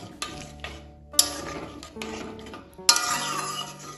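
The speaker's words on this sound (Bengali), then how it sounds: "ভালোভাবে জলটা মিশিয়ে নেব জলের সাথে" Water being stirred into rice in a pot, with metal spoon scrapes and clinks against the vessel in uneven strokes and a soft swirling wash between them, fairly close and without talk.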